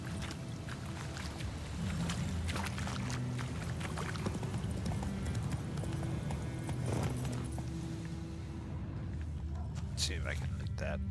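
Roach, the horse in The Witcher video game, trots with steady clip-clopping hooves under a dense bed of game ambience and a voice.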